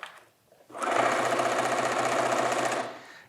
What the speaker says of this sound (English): sew that seam.